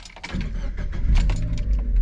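A Mazda Miata NB's engine starts up, a low rumble rising quickly from the first moments and then settling into a steady, fairly loud idle, with a faint jingle of keys near the start.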